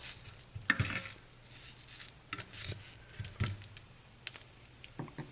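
Sausages being turned in a frying pan: soft scraping and clinks of a utensil against the pan at irregular intervals over a quiet, steady sizzle.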